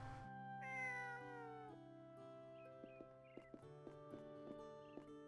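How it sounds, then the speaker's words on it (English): A cartoonish cat meows over a sustained musical score in the video game Eternal Sonata, with soft light tapping notes scattered behind the melody. "Oh, it's a cat, okay."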